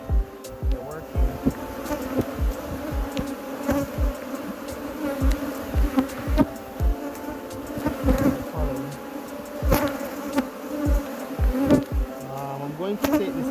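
Honey bees buzz densely around an open hive during a spring inspection, with a steady close drone and frequent individual bees zipping past the microphone, while a person talks softly now and then.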